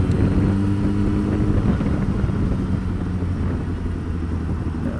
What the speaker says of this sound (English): It's a 600 and you got to give them some beans to get off the clutch to get going on them.